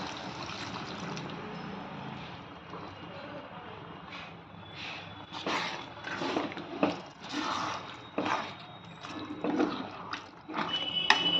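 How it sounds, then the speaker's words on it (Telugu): Water poured from a masala grinder jar into a cooking pan makes a close trickling, splashing stream that swells in several uneven pulses. "ఈ జార్లో కొంచెం మిగిలిపోయింది మసాలా, అది వేస్ట్ అవ్వకుండా దీంట్లో వాటర్ పోసి దీంట్లో పోసుకోవాలి"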